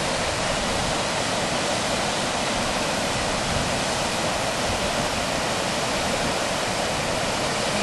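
A roaring waterfall on the Ingleton Waterfalls Trail in the Yorkshire Dales, a loud, steady broadband rush of falling water that fills the whole clip close by without a break.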